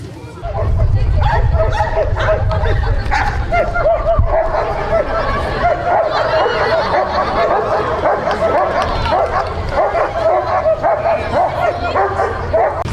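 A working dog selected for retrieve training barks and yips repeatedly over a busy background of people talking, the barking fairly loud and continuous throughout.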